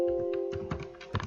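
Several quick keystrokes on a computer keyboard spell out a short word, distinct close taps in an uneven rhythm over a faint steady hum.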